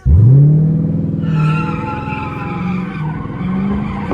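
A Chrysler 300 fitted with a 3.09 limited-slip differential slides, and its tires let out a loud, sustained squeal over a revving engine. The squeal rises at the start and holds with changing pitch as the car keeps drifting.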